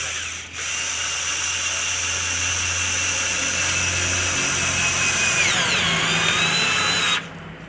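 A power drill drives a screw into a wooden ceiling frame, running loud and steady for about seven seconds with a rising whine near the end before cutting off.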